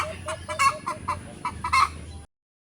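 Chicken clucking in a rural province yard, a run of short repeated clucks in uneven bursts, fairly close and clear against quiet outdoor background.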